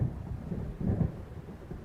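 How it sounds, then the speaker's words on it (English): Low rumbling thunder from an approaching storm in the video game Alan Wake, rolling and swelling twice over a couple of seconds at moderate loudness, with no voices. "It seems there's a storm coming."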